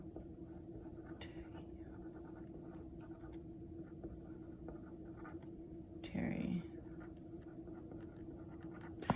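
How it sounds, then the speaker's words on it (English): Pen or marker writing a heading across a paper diagram of the skin and integumentary system, a faint steady scratching under a constant low hum, with a brief louder rustle near the middle. "So I'm gonna write that at the top here"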